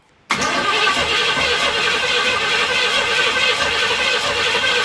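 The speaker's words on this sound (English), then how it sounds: "All we gotta do is crank it, see if it'll start." A vehicle engine cranks over steadily on power from a FANTTIK portable jump starter, starting abruptly and keeping up a loud, continuous churning whir for several seconds without catching, close up and with no talk.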